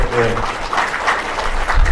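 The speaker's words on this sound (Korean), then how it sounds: "박수 한번 이제 주시죠" Applause from an audience at an education reform talk concert in Seoul, a continuous wash of clapping with faint voices mixed in.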